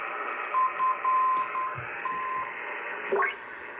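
A shortwave radio receiver in USB mode with a 2.4 filter gives a steady hiss with garbled, distorted sideband audio and a faint whistling tone drifting through.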